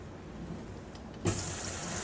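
Tap water suddenly turns on and runs in a steady, loud hiss into a sink for rinsing pickled chili peppers, after a quieter stretch of low room noise.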